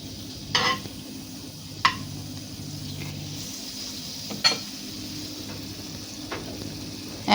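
Butter melting in a pan before frying eggs gives a soft, steady sizzle with low bubbling. A few sharp clinks and scrapes of a utensil stand out over it.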